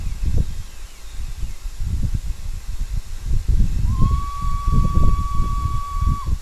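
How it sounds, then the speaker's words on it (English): A single sustained steam locomotive whistle from a Great Western Railway engine in Train Simulator starts partway through and holds a steady high tone over a continuous low chuffing rumble of the running locomotive. "That's one whistle."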